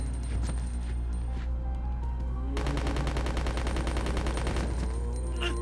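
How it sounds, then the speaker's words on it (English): A submachine gun fires in the video game Resident Evil Code: Veronica. Rapid, evenly spaced shots come in a sustained burst under game music and ambience. "go ahead and use the submachine gun"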